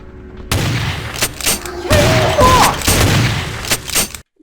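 Gunfire in Vampire: The Masquerade – Bloodlines, a run of loud, close shots and bursts in quick succession during a fight.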